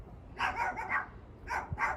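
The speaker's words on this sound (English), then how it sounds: "Little dogs are barking today." Small dogs bark in a few quick yappy bursts, two clusters of short sharp barks at moderate distance with a brief pause between, no talk over them.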